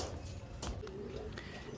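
Andhra pigeons in a loft give a soft, low coo close by, with faint other bird calls around them.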